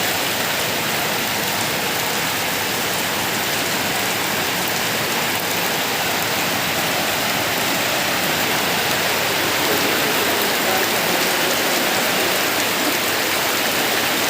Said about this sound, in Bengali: আমাদের এখানে আছে খুব বৃষ্টি হচ্ছে